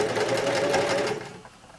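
A sewing machine stitches a quilted bag in a short, rapid, rattling run that slows and fades near the end.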